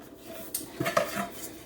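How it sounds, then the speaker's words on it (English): Metal 8-inch cake pans clink and clatter as they are handled in a home kitchen while preparing to bake a birthday cake, with a few short, sharp knocks against quieter background noise. "8-inch pans and grease them with your coconut oil"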